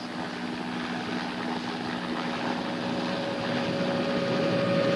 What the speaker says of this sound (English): Neither clouds nor cover can completely shield marijuana from helicopter raiders.